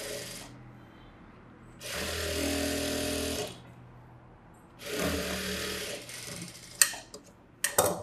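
A sewing machine stitches the edge of a blouse hook strip in two sustained whirring runs of about two and three seconds each, separated by quiet pauses, followed by a few sharp clicks and ratchet-like knocks near the end.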